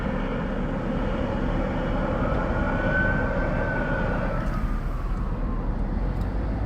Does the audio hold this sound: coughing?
no